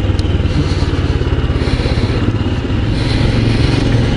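A Royal Enfield Scram 411 single-cylinder motorcycle runs steadily nearby, a loud continuous low thumping rumble with a rapid regular beat and no voices over it.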